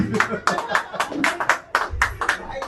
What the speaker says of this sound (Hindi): इतनी ताली कभी नहीं मिली